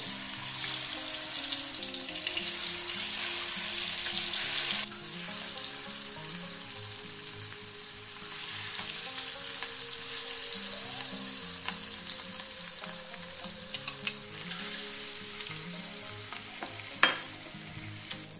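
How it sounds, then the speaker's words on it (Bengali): Fish sizzles steadily in hot mustard oil, a dense crackling fry that carries on throughout with occasional stirring clinks and a sharp pop near the end. "এবারে সর্ষের তেলটা গরম করে নেব, মাছগুলো ভেজে নেব।"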